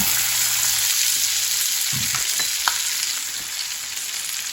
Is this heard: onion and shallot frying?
yes